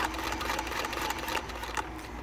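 A sewing machine stitches fabric during free-motion quilting, a steady, close mechanical whir with fast needle clatter throughout.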